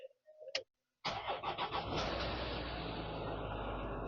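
A Range Rover Sport engine cranks briefly and catches, then settles into a steady, close idle after a short silence, with a faint click or two at the start.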